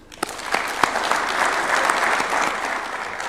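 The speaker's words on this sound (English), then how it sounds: "give a warm round of applause for His Excellency the President" Warm applause from a large audience at a diplomatic briefing at State House, Nairobi, dense steady clapping that swells after the first second and holds evenly, with a few sharper claps standing out.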